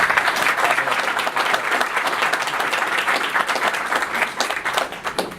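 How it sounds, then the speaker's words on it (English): Applause from the audience at a luxury real estate forum for Stonegate Bank, a dense, steady burst of many hands clapping nearby, thinning slightly toward the end. "I want to give a special thanks and a round of applause to Stonegate Bank for hosting today's"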